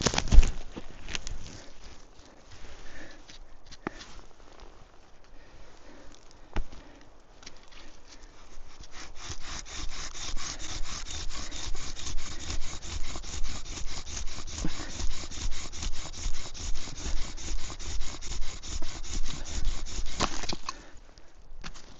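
A bow drill with a cattail bowstring and an ice socket spins on a cattail fireboard. Scattered scrapes give way to steady, rhythmic back-and-forth rasping strokes, close and alone, that stop abruptly near the end.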